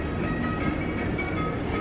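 A Disney World monorail bound for Epcot runs with a steady, continuous rumble and a rail-car hum, close by and without pause across the short stretch, and no voices come through.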